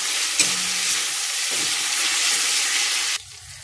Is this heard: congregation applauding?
no